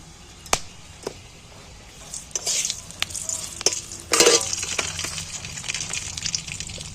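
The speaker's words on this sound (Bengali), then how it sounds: "এখানে দেখো দুটো তেজপাতা দিয়েছি দিলিয়ে একদম চড়াং করে উঠবে" Whole bay leaves, cardamom, cinnamon and cloves crackle and sizzle in hot oil for a chicken dish, with sharp pops and spatters near the start and a busier burst of frying midway, plus a few utensil scrapes.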